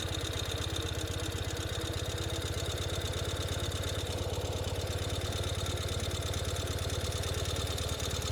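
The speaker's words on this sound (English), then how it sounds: "pretty much just at idle we're good to go" A 2021 Ural Gear Up sidecar motorcycle engine idles steadily and close by in first gear, a low, even rumble with a fast regular pulse that holds unchanged throughout, with no talking.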